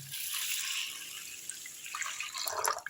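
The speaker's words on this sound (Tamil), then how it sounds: "இப்போ இதில் தண்ணி குடிக்கிற தண்ணி ஊற்றிக்கலாம்." Drinking water poured from a vessel onto rice soaking for idli and dosa batter, a steady hissing splash up close that eases, then surges again near the end.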